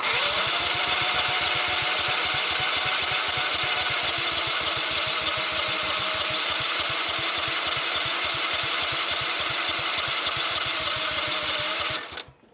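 Tractor starter motor hotwired by shorting the switch terminals with a screwdriver on a low battery: a loud, steady rapid chattering whir holds for about twelve seconds, its pitch sagging slightly, then cuts off abruptly.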